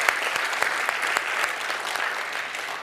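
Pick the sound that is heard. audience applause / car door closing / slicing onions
audience applause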